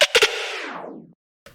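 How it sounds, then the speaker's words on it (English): Three punchy pitched-down drum hits from the breakdown of a track, followed by a delay repitch tail that slows and sweeps steadily downward in pitch for about a second before cutting to silence, with a brief hit at the end. "as you increase the delay time, it will slow down, creating this slowdown effect"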